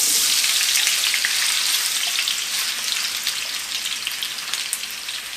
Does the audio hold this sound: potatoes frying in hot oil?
yes